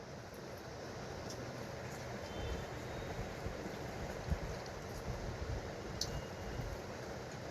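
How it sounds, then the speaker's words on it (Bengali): Water poured into a boiled-potato curry being cooked for egg rasayani, a steady soft rushing pour that continues evenly throughout at moderate level. "অল্প জল দিয়ে দেবো"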